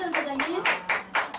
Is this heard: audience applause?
yes